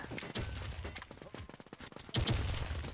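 Gunfire rings out in a video game shooter as rapid bursts of shots, loud and close, crackling in uneven clusters with a heavy volley near the end.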